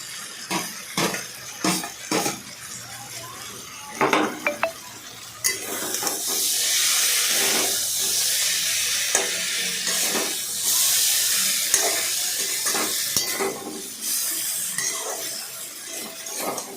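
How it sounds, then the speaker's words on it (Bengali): A spatula gently stirs fried amudi fish in a curry in a pan, starting with a few spaced scraping knocks and then giving way to a sustained steamy sizzle and hiss. "আস্তে আস্তে করে নাড়ালাম যাতে মাছগুলো না ভেঙে যায়"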